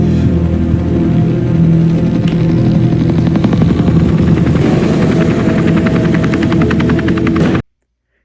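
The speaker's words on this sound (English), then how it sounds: "where we hear a helicopter" A helicopter roars loud and close, its steady engine drone and rapid rotor chop running continuously for about seven and a half seconds before cutting off abruptly.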